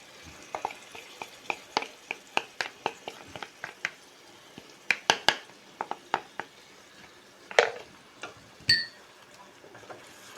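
A spoon stirs a yogurt mixture into cooked onion and tomato in a cooking pot for egg biryani, making close, irregular metallic clinks and scrapes in uneven clusters, with no one talking.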